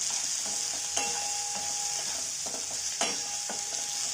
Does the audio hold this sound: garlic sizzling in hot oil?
yes